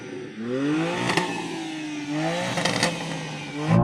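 A BMW car engine revs hard in repeated bursts, rising and falling pitch sweeps with sharp climbs and a gruff idle between, loud and close with no talk.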